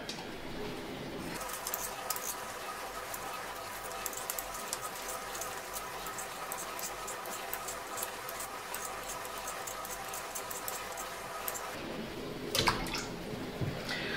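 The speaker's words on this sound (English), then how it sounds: "I'm going to put the uh, peeled potatoes in cold water." Peeled potatoes go into a pot of cold water in a home kitchen, a steady watery wash and clatter running throughout, with a brief louder splash near the end, no talk.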